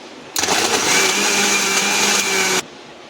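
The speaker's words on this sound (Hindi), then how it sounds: "अब एक बार और मिक्सर चला देंगे," A mixer grinder blending cold coffee with milk whirs loudly and steadily for about two seconds, then cuts off abruptly, with no voices.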